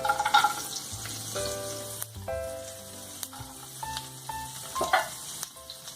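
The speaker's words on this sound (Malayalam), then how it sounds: "ഇനി നമുക്ക് ഇതിനകത്ത് കുറച്ച് ഗാർലിക് ഇട്ട് കൊടുക്കാം" Garlic fries in a pan over a medium flame, giving a continuous soft sizzle broken by scraping stirs and a few light clinks, close and moderately quiet with no talking.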